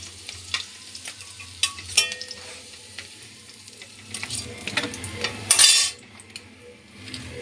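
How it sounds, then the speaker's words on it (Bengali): Lentil dumplings (bori) fry slowly over low heat in a pan with black cumin and dried chilli, giving a steady soft sizzle with scattered utensil scrapes and clinks and one louder hissing burst near the end. "বড়িগুলোকে আমি জালটা কম দিয়ে আস্তে আস্তে বড়িগুলোকে আমি ভেজে নেব"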